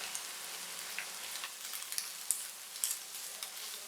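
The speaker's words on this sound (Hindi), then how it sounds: "अब इसमें ऐड करेंगे 1 कप लंबाई में कटी गाजर और इसको भी 2 से 3 मिनट फ्राई करेंगे।" Sliced carrots and onion fry in a pan with a steady, faint sizzle and occasional soft crackles and pops, no voices.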